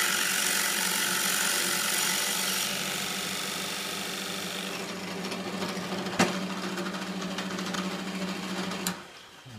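A power drill bores into wood on a lathe project for a turned stool, whining steadily at close range with a sharp click partway through, then winding down abruptly at the end.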